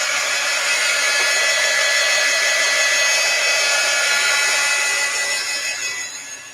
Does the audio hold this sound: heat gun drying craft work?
yes